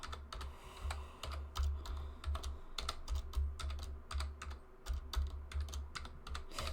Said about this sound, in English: So I'm just going to go and type in something random.